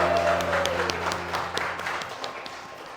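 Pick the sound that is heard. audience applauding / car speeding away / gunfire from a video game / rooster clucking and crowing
audience applauding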